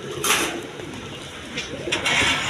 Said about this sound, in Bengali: এখানে এক পেয়ার রেশার কবুতর আছে দেখেন ব্ল্যাক রেশার